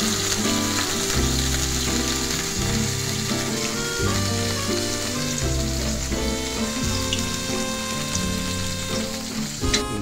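Iridescent catshark fish from Vietnam frying in a pan: a steady, close hiss and crackle of oil that holds evenly throughout, with tonal music playing underneath.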